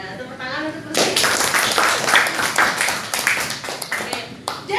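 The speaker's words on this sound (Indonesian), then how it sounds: "tepuk tangan untuk Lucy" Students in a classroom clap together in a brief burst of applause, uneven and fairly close, with a teacher's voice and other voices talking over and around it.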